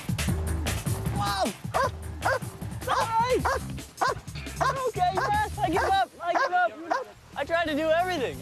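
A German Shepherd yips, whimpers and barks excitedly at close range after tracking down a hidden person by scent. The dog's bursts overlap and come in uneven runs with brief pauses.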